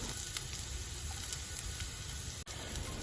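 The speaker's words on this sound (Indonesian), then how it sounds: "Jangan lupa bawang putihnya juga mesti dioseng-oseng biar dia nggak gosong." Chopped, crushed garlic stir-fried in a pan for fried rice vermicelli gives a steady, soft frying sizzle and hiss that runs evenly throughout, with a brief break near the end.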